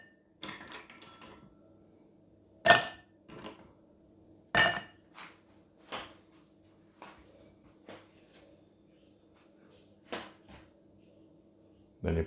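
Ice cubes drop into a glass for lemon water, sharp scattered clinks and clatters, a few loud and others softer, separated by quiet gaps.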